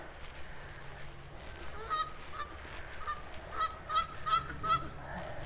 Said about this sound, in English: got some geese making themselves known over there on the island